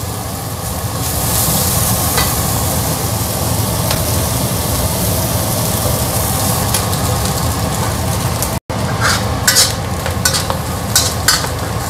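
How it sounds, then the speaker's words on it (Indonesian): Garlic sautéing in a pan of hot oil for fried rice vermicelli, a steady loud sizzle running the whole time with occasional stirring scrapes and a brief gap near the end. "Bawang putih, nah, ini aku ikut tumis ya biar wangi."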